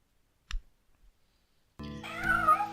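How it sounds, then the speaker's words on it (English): A house cat, after near silence broken by a faint knock or two, gives one loud, drawn-out meow close by, with no one talking. "he started meowing again"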